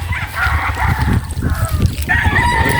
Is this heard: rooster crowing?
yes